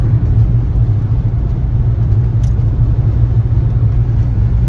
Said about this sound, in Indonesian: Di depan saya ada sejumlah kendaraan yang melaju di tol Cijago ini.